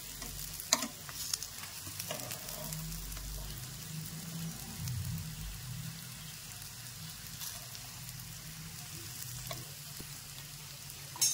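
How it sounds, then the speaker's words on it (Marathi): A vegetable mixture frying in oil in a pan for a quick veg recipe, giving a steady soft sizzle throughout with a few faint clinks, fairly quiet and with no talking. "अशा पद्धतीने सगळं फ्राय करून घ्यायचं आहे आपल्याला."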